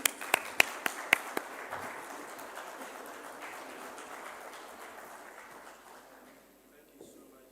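Applause from a conference audience welcoming a dignitary at a real estate event, a burst of sharp claps at first that thins into a steady, fading patter over several seconds.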